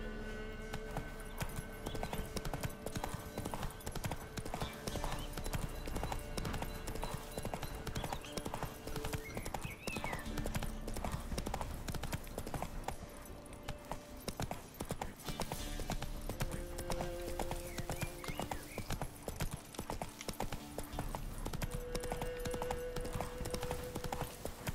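The horse Roach trots steadily in The Witcher 3, its hooves clip-clopping in a continuous rhythm throughout with game ambience underneath and brief voice snippets.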